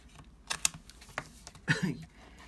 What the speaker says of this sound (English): So I'm just going to use some masking tape here.